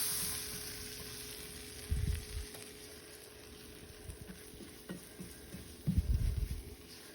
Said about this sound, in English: stir that in with the onion and margarine mixture